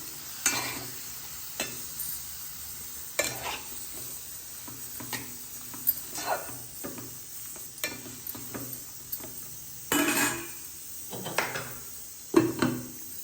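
Tomatoes simmering in a covered pan give off a soft, steady sizzle with scattered light clinks and stirring knocks of a lid or spoon recurring through the stretch.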